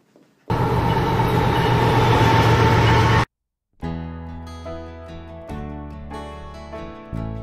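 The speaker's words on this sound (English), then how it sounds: "I think there's a train coming" A train rumbles loudly and steadily for a few seconds, cutting off abruptly, before musical tones with a clear pitch take over.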